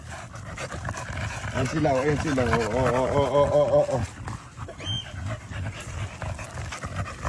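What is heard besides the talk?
dogs panting and playing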